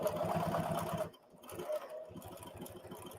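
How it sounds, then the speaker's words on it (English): Sewing machine stitching thick leather on an HD9 heavy-duty machine, running in a rapid even chatter, pausing briefly, then resuming with slower back-stitching at close range. "Just back stitching, give it a little extra."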